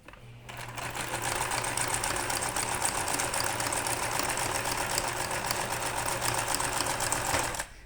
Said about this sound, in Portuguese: uma costura de zigue-zague na volta inteira